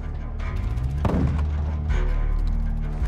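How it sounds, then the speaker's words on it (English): A Semtex grenade blows up in Call of Duty: Modern Warfare II, a single sharp, loud blast over steady low rumbling game noise. "Semtex incoming! Semtex out!"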